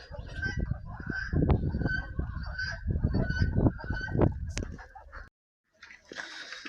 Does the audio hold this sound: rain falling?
no